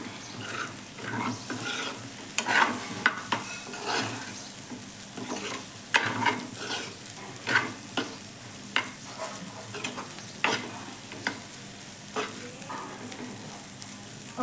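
Egg paneer frying in a pan with coriander leaves, a steady close sizzle under repeated scraping strokes of a spatula stirring at an irregular pace, with no talking.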